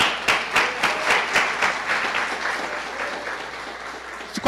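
A church congregation applauds during a service at a Brazilian church: many hands clapping together, with rhythmic accented beats at first, settling into steady, fairly loud applause.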